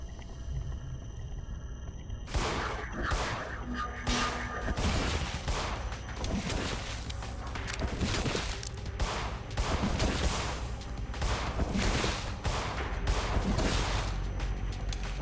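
Video game gunfire in the horror shooter In Sound Mind: a dense, sustained barrage of rapid shots lasting over ten seconds, continuous and fairly loud with no voices.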